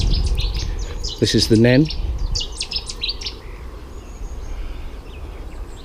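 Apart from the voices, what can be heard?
birdsong beside a canal navigation waterway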